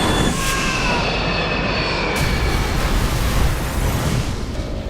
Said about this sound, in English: A Boeing 727 is headed for the ground.